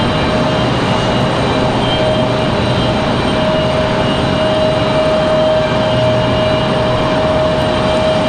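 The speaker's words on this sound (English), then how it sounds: "Got our Cessna coming in from" A Cessna aircraft arriving at Raleigh Durham airport, a steady broad engine drone with a sustained tonal whine, loud and constant throughout with no talk.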